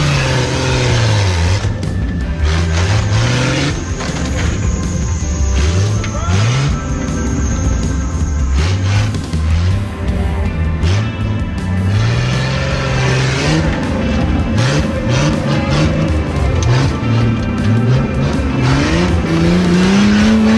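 Engine of a street-legal rock crawler working over a rock obstacle at an off-road park in Rock Run, Pennsylvania, with a steady loud drone and repeated rising revs throughout, plus brief tire scrabbling.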